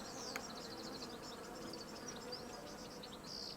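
Bees buzz steadily in the Hive Time video game, a faint, continuous insect drone with fluttering chirp-like accents that runs through the whole stretch, with no voices.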